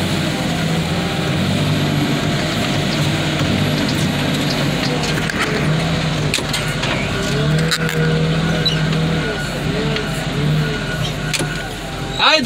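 A swamp car drives over and crushes cars outdoors, with a loud, continuous engine roar and grinding, scraping impacts of crumpling metal. A few shouts rise over the machine noise.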